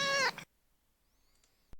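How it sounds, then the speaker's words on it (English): A neighbour's cat gives a single close, clear meow, rising slightly in pitch, followed by near silence and a faint sharp click at the end. "So this is what the neighbor's cat sounds like."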